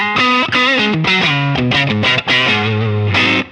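Electric guitar through a T-Rex Diva Drive overdrive pedal with a thick overdriven, distorted tone playing a loud, sustained bluesy phrase of bending notes, no voices.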